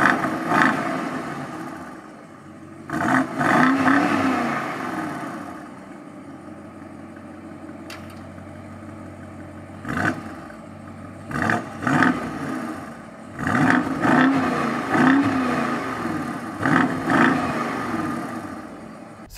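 A 2019 BMW X7 xDrive50i with its V8 engine, heard in repeated bursts of deep revving and acceleration between quieter idling stretches, fairly close and loud, with no talk.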